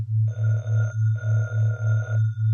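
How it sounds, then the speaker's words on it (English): A telephone bell rings twice in an old-time radio drama, two long bursts separated by a short gap, loud and close with no talk over it. "Heavens, did that phone ring?"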